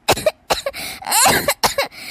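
A person coughs repeatedly in short harsh bursts, about five or six coughs in quick succession, close and loud.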